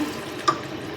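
A steady wash of running water pours continuously into a cooking pan of pointed gourd, close by, with one faint clink partway through.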